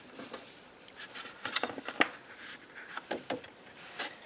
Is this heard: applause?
no